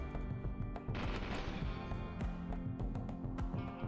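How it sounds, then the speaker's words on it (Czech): Gunfire in RimWorld crackles in rapid, repeated sharp shots and short bursts, fairly dense and continuous, with no talk over it. "Už slyším děsivou střelbu"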